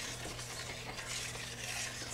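Sugar being stirred into hot grape juice in a pot for homemade jelly, a soft continuous swishing and faint bubbling over a low steady hum, close and fairly quiet.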